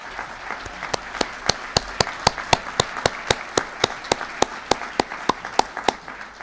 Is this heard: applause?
yes